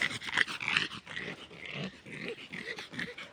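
A dog in a forest growls and pants in short, rough bursts, fairly close and continuous, with no one speaking.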